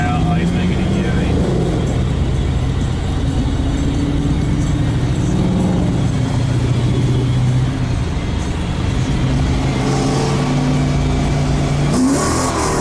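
A Ford Mustang accelerates past on a road, its engine note rising and falling loudly and continuously under steady traffic noise, with a voice heard briefly.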